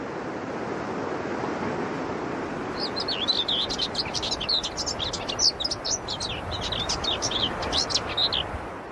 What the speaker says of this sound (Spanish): Esta curruca zarcera acaba de llegar del sur del Sáhara para establecer su territorio en esta parte del páramo.